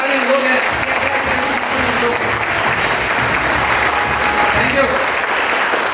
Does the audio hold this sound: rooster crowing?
no